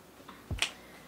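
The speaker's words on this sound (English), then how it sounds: "snap your fingers" A single crisp finger snap, close and sharp, after a faint soft rustle in an otherwise quiet short moment.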